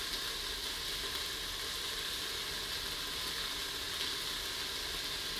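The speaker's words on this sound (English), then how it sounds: "once my onions are translucent and softened, I'm going to add my minced garlic" Minced garlic fries with translucent, softened onions in an Instant Pot, giving a faint, steady, even hiss of sizzling with no talk over it.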